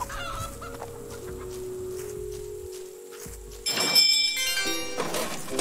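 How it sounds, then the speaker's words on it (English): Chickens clucking in the farming video game Garden Paws, a few short clucks over a soft game ambience, followed by a louder burst of chattering fowl calls toward the end. "Hey, chickens!"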